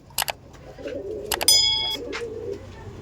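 Pigeons coo softly close by in a loft at a pigeon market, low murmuring calls rising and falling, with a few sharp bursts of wing flaps or scuffling in between.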